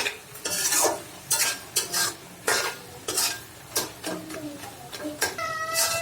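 Crushed garlic fries with taro leaves, with repeated brisk scraping and stirring strokes of a utensil in the pan over a continuous sizzle, and a faint metallic ring near the end.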